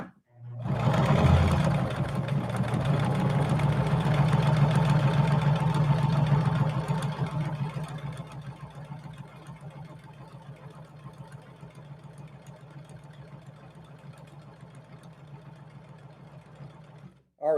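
A Juki HZL-353ZR-C sewing machine runs a steady, continuous stitch that starts loud and close, then softens for the rest of the run before stopping abruptly.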